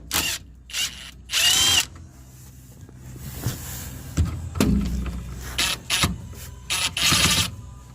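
A power tool spinning off the transmission cross member nuts on a 1967 Ford Falcon with a C4 transmission, heard as repeated short whirring bursts separated by clanks and handling noise in a garage.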